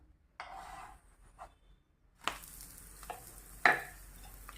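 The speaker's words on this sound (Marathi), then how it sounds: "यावरती छान तूप सोडून घ्यायचे, साजूक तूप किंवा मग तुम्ही तेल पण वापरू शकता" A sweet flatbread roasting in ghee on a flat pan, a few soft scraping and sizzling bursts after a quieter stretch, then a livelier sizzle with a sharp spatula scrape near the end.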